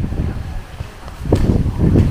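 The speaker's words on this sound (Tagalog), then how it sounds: "Ang ano, no, ang lamig ng hangin." Cold wind gusts against the microphone outdoors, a low rumbling buffet that dips briefly and then swells louder in the final second.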